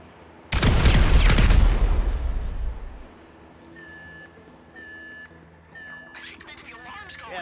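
A loud Grand Theft Auto V explosion bursts and rumbles for a couple of seconds, then fades into repeated electronic beeping alarms.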